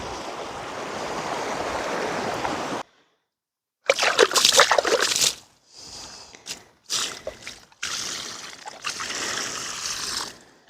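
Water sloshing and splashing in a bucket carried by hand to a seedling nursery, heard in bursts of close, uneven slopping with short quiet gaps between swings.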